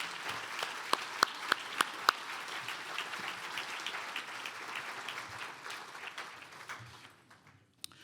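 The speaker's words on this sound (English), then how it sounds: "if we could give a quick round of applause to the volunteers here tonight" At a charity gala in a hotel ballroom, a crowd gives the volunteers a light round of applause. A few sharp, close claps stand out over softer, distant clapping that thins out and stops near the end.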